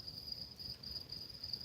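Crickets chirping at night outdoors in the Hudson Valley, a continuous high pulsing trill, faint and steady with no talk.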